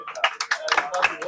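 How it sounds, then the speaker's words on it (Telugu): Clapping at a village felicitation ceremony during a Sankranti rangoli contest, honouring the sarpanch; a brief burst of hand claps with overlapping voices. "చప్పట్లు."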